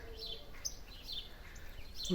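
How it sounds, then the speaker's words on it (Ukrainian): Common starlings chirp and warble in high, varied bursts against a steady outdoor background hum, moderately close. "чуєте, як співають шпаки?"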